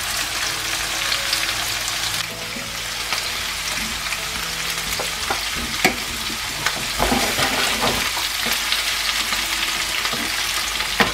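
Steady, loud sizzling and crackling of paneer cubes and vegetables roasting in oil in a kadhai, with occasional scrapes and stirring clatters over a continuous frying hiss.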